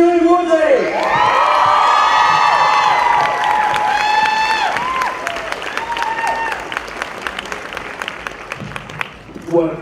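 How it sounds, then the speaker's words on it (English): Comic-Con 2013 panel crowd at the Divergent event bursts into loud, sustained applause with cheering, whoops and high shouts, the roar easing slightly toward the end as scattered clapping continues. "please, a huge round of applause, our protagonist, Chris Shailene Woodley!"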